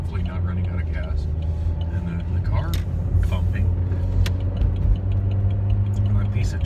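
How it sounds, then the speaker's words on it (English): A car interior while driving, with a broken trim piece thumping over a steady low road and engine rumble; the knocks are soft and irregular, and someone talks over them. "And the car thumping."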